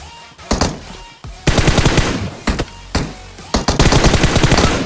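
Loud automatic gunfire in the mobile battle royale game PUBG Mobile, several rapid bursts of shots close up with short pauses between them as a bot is taken down.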